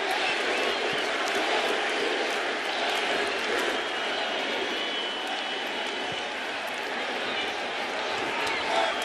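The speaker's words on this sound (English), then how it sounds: "Crowd roaring in anticipation." A packed Yankee Stadium crowd roars in anticipation as Aaron Judge, one home run from 60, bats against the Pirates in 2022: a continuous, loud wash of massed voices that holds steady throughout.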